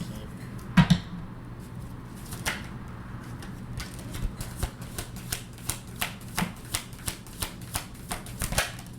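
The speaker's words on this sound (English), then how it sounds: "so the shuffling's a bit wonky, but they're coming out" A fresh, stiff deck of tarot cards is shuffled, giving a run of sharp, evenly spaced riffling snaps close by, with a louder burst of handling near the start.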